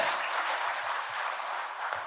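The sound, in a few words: round of applause for presenters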